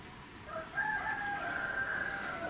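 A rooster's crow rings out in one long sustained call from a moderate distance over steady rural background noise, fairly faint overall.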